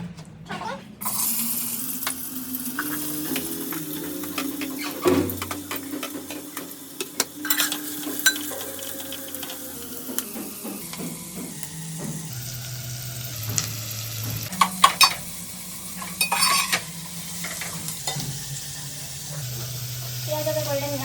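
Onions frying in hot oil for a biryani sizzle steadily in a pan, with intermittent stirring scrapes and clatters and a tap running briefly, while people talk over the cooking.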